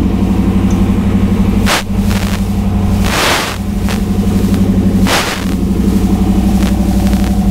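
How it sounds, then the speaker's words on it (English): A 1995 Chevrolet Camaro's exhaust rumbles loudly and close at a low idle, with several sharp blips of revving breaking the steady drone. "the exhaust sounds amazing on this car"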